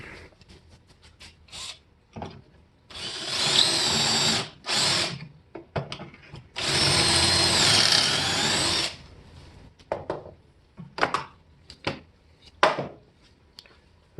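A power drill on high speed bores pocket holes in wood, running in two long loud bursts with shorter spurts and clattering handling noises between them, close by and without speech.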